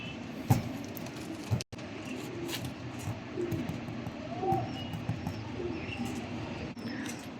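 Teddy pigeons of the Salara breed, Mianazi bloodline, cooing softly in low, rounded phrases against a steady background murmur, with a few sharper knocks and faint chirps scattered through.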